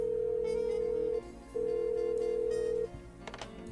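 A telephone rings unanswered in the Blackwell Unbound adventure game: two long, steady electronic ring tones with a short gap between them, clear and alone, cut off near the end by a brief click.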